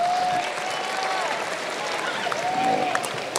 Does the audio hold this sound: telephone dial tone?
no